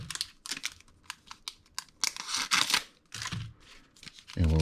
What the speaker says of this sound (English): So I'm just going to rip some of these up